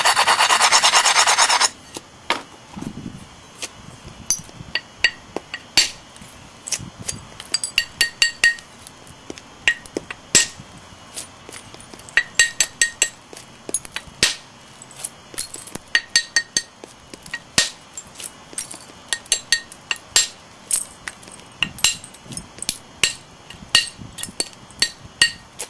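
Flintknapping on a stone slab: a long run of sharp, irregular knocks and clicks as flakes are struck off, close and fairly loud, after a brief burst of rough rasping at the start, with no talking.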